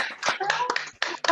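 Applause from a remote audience on an online video call, a short burst of scattered clapping with uneven, choppy bursts as individual participants clap at once.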